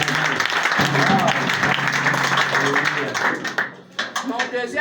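A church congregation applauds with steady dense clapping throughout, loud and close, while a voice speaks over it.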